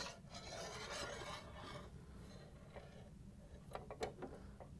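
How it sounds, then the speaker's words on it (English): A Phillips screwdriver drives screws into the bracket of a Frigidaire/Electrolux ice auger, making faint, continuous grinding and scraping turns, followed by a few sharp clicks near the end. "We're going to use our Phillips screwdriver to put these back in."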